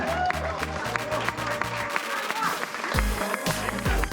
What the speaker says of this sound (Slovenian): En aplavz za najboljše!